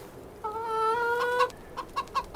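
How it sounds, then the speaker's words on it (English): Chickens in Farming Simulator 25 cluck close by, one drawn-out tonal squawk followed by several short clucks in quick succession, clear and alone without talk. "I'm gonna lean down by my new chickens that I got,"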